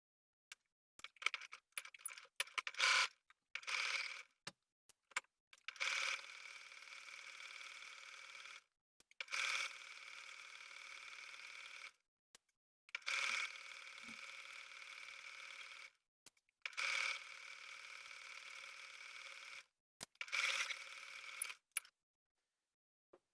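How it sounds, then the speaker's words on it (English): A sewing machine edge stitches along the pressed fold of a fabric yoke in short whirring runs, stopping and starting about half a dozen times with soft clicks between bursts, close and fairly quiet. "now I'm going to fold, press those in, and then edge stitch the fold."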